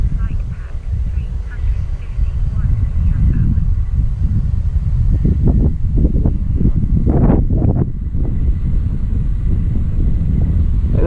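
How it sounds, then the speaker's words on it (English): Strong wind buffets the microphone in gusty low rumbles around an E-flite Piper Cherokee RC plane flying in very windy conditions, and a voice talks over it. "It seems like it's always windy out here for me."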